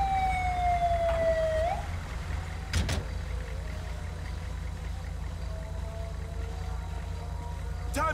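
A Dodge ambulance siren in Grand Theft Auto V wails and slides downward for about two seconds before cutting off. A low engine hum and a brief thud follow.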